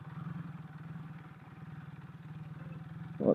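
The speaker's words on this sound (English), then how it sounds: "Oh, we got a nice idle going on right now." Kawasaki KZ440 single-carb motorcycle engine idling close by, a steady low rhythmic chug with slight clatter, holding an even pace throughout and a brief louder blip near the end.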